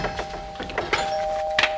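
Electronic doorbell chime inside a children's TV show set, a short tonal ding-dong with a steady sustained tone and a few bright struck notes over about two seconds, fairly close and clear.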